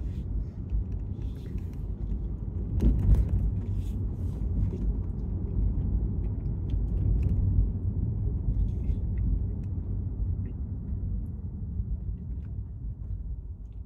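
A Tesla on Full Self-Driving rolls along a road through a right turn, giving a steady low engine-free road rumble and tyre noise close up, with a brief bump near the start and no talking.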